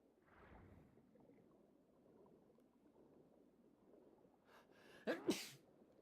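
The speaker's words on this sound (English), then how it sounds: "I sneezed." One person sneezes sharply and loudly near the end, after several seconds of faint, low room noise.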